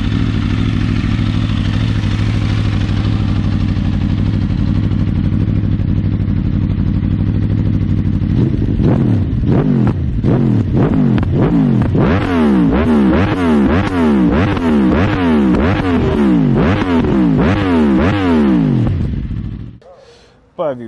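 A tuned 2022 Aprilia RSV4 Factory 1100 sportbike with an aftermarket exhaust and intake idles loudly and steadily, then is blipped through a rapid series of sharp, rising revs that repeat for about ten seconds before cutting off abruptly.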